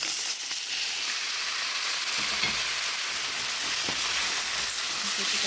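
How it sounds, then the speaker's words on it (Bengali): Onions, green chillies and taro stems fry with hilsa fish head and tail in a pan, producing a dense, even hiss of sizzling oil with faint stirring scrapes underneath. "ভালো করে ভাজা ভাজা করে নিব মাছের সাথে"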